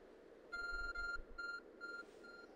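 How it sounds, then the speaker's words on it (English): Arc Phone in Pokemon Legends: Arceus gives a series of high electronic beeps, a steady tone broken into several short bursts over soft game music. "Your arc phone is beeping."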